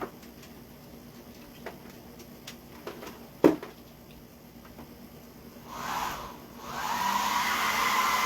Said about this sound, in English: plug in this hair dryer